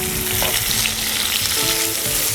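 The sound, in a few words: tomatoes frying and being stirred in a pan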